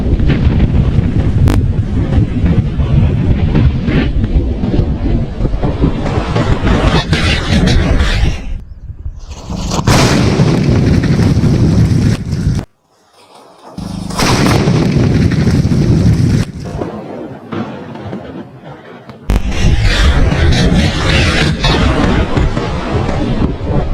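Diwali firecrackers going off in long, dense crackling bursts, loud and close, with a couple of brief pauses between volleys; voices are faintly mixed in.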